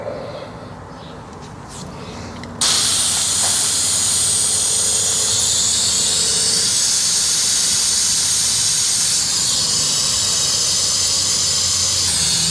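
Air is drawn through a trailer surge brake line while the brakes are bled, a sudden loud steady hiss that starts a few seconds in and keeps on without a break, close and harsh, with no speech.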